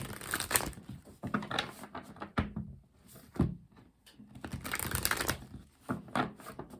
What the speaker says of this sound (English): We're going to cut the deck.